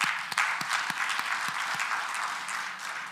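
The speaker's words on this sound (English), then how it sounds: "Let's give ourselves and everyone a round of applause." Applause from a conference audience at the close of the day, moderately faint and steady, with a few distinct louder claps standing out over the dense clapping.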